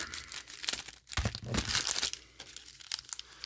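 Crinkly plastic wrapper of a trading card pack being crumpled and torn open, a close, busy rustling that swells and fades over a few seconds with no talking.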